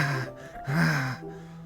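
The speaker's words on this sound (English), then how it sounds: "A sharp inhale, like someone is sucking the air through their teeth." In the video game Doki Doki, a sharp inhale like air sucked through the teeth, heard close as two rasping, breathy intakes in a row with no talking.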